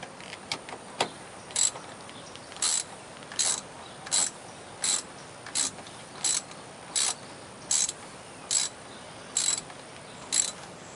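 Ratchet wrench tightening a battery terminal on a 2000 Dodge Dakota, sounding in short bursts of rapid clicking roughly every second, fairly close and otherwise quiet.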